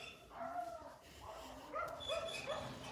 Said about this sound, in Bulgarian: Започнахме кучетата.